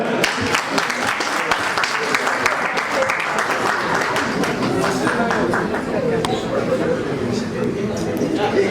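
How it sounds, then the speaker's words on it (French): Audience applauding loudly at a diploma ceremony, a continuous dense wash of clapping from many hands that holds steady throughout, with crowd chatter mixed in. "On applaudit très fort, s'il vous plaît."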